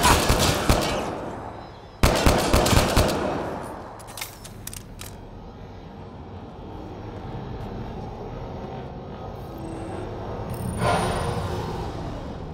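Mass Effect Andromeda combat: two sharp volleys of automatic gunfire crack loudly in quick succession, followed by scattered shots and a long rumbling, engine-like drone that swells near the end.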